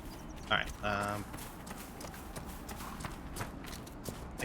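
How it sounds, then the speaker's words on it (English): Horses' hooves in Dragon Age: Inquisition clop in a brisk, irregular rhythm under a background of game ambience, with a short burst of sound near the start and no clear talk. "I definitely hear it sounds like horses, but I'm not seeing them."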